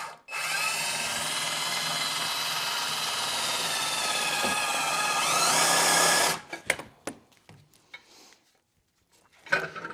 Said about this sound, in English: I'm just going to use a step drill.